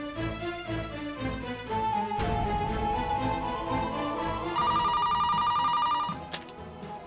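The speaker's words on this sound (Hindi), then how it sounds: "मैंने आई हुए नंबर पर फोन करके देखा" A telephone rings with repeated electronic trills, loud and close, over a sustained musical background with no talking.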